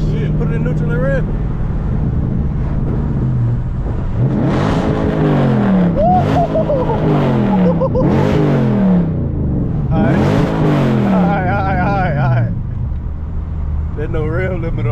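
A tuned wide-body Scat Pack car's engine revs in neutral, rising and falling in several loud, throaty pulls with burbling between them, close by, while people talk over it.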